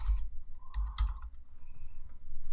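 A few quick keystrokes on a computer keyboard, soft clicks close by in a quiet room, entering text during photo editing.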